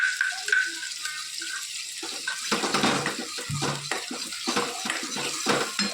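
Water pours and sloshes into a cooking pot of besan roasted in oil, with stirring and clanking of the pan, in a close, busy stretch of several seconds.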